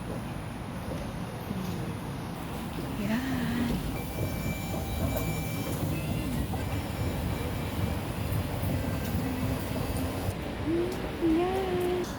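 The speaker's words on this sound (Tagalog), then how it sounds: "ayan na ang MRT ah. ayan paparating na" An MRT train pulls into a station with a continuous, steady rumble that fills the whole stretch, with faint higher squeals rising briefly near the start and again toward the end.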